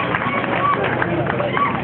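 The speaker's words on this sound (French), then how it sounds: "Donc, l'applaudissement s'il vous plaît." Audience applause fills a school prize-giving ceremony in Bandjoun, Cameroon: dense, steady clapping from many hands, held at an even level for about two seconds.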